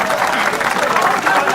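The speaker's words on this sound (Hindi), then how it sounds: "आपसे अनुरोध है कि आप आज के डेट में फिर से ताली बजाएं।" An audience at a speech applauds in a dense, loud burst of clapping that holds steady for a moment and then cuts off abruptly.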